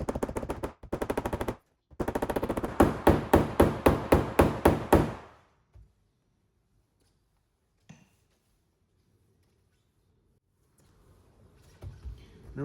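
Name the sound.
tapping a car body panel for paintless dent removal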